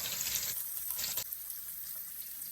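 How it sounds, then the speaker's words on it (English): Chicken pieces, skin side down, fry slowly in oil over low heat, giving a steady close hiss of bubbling fat with a brief louder splash at the start. "I'm gonna drop them in like that and let it slowly cook"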